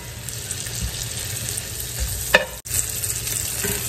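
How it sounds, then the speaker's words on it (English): Onions and burger buns cook together on a skillet with a constant close sizzle, broken by a short clattering scrape and a sudden cut before the frying noise resumes. "we'll do another one while our onions cook on the other side of the skillet"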